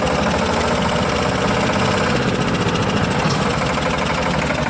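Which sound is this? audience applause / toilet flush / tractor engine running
tractor engine running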